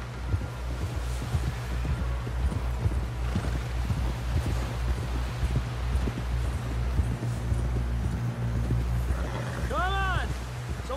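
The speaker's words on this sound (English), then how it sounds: "Someone help John down off this horse." Horse hooves clip-clop steadily and continuously under people talking in the video game Red Dead Redemption 2, with a rumbling background and a brief whinny-like call near the end.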